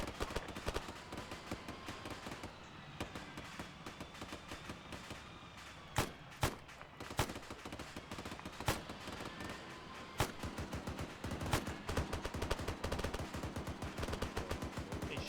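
Dense video game gunfire in ArmA, with rapid automatic bursts and scattered sharp single shots layered together, some louder cracks standing out over a continuous crackling din.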